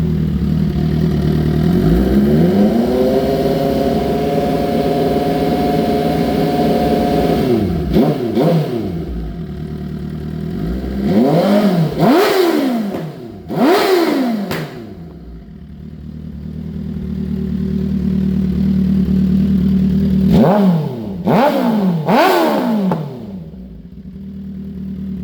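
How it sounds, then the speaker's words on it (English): A 2008 Suzuki GSX-R 1000 sport motorcycle idles, then its engine is revved several times in sharp rising and falling bursts, loud and close, settling back to a steady idle between the blips. "Let me give it a few revs. It holds a great RPM."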